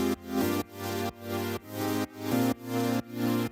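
Sustained synth pad chords from a future house track swell in a steady repeating rhythm, each chord fading in and cutting off roughly every half second, with no voices.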